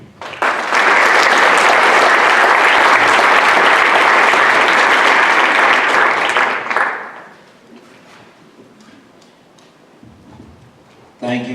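Loud audience applause at a school board of education meeting in Bernards Township, sustained for about six seconds before fading into quiet room noise with faint movement.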